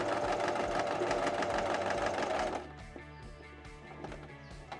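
Sewing machine top stitching the straight edge of an apron runs in a fast, dense mechanical chatter for about two and a half seconds, close and loud, then stops and leaves quieter clicks and handling noise.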